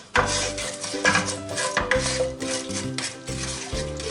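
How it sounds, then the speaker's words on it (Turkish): Homemade erişte noodles being stirred and toasted in a pot, a spoon scraping and clinking against the metal in steady repeated strokes with light sizzling underneath, close and fairly loud. "Şöyle güzelce karıştırarak eriştelerimizi kavuralım."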